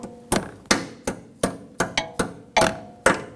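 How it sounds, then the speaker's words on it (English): Small hammer tapping a metal clip onto a brake hose bracket on a 2011-2018 Volkswagen Jetta rear brake, about nine sharp close metallic taps at an uneven pace, with no talk. "Take a small hammer, give it a tap."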